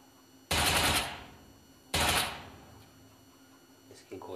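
UMP submachine gun firing in PUBG Mobile, two loud rapid bursts of automatic fire each lasting about half a second and trailing off, followed by quieter scattered clicks and game noise.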